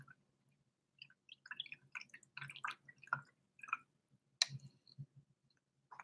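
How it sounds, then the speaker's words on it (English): A paint brush swished and tapped in a water cup, producing scattered wet clicks, drips and splashes in short irregular bursts, close and fairly quiet, with no talking. "since there's black on my brush, I'm going to rinse it out"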